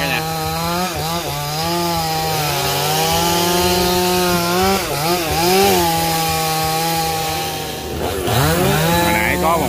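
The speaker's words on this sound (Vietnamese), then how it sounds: "Giờ anh Sang anh xuống anh cưa nhỏ cho nó rớt xuống" A chainsaw cuts into a melaleuca tree in Ben Tre, its engine droning loud and close with pitch dips and surges as the chain bites into the wood, running steadily throughout.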